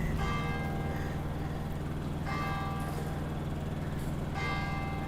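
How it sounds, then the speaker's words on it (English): A church clock bell strikes slowly and steadily in New Plymouth, New Zealand, each deep ringing chime swelling and fading over a constant low hum of background noise. "We'll listen to the chimes."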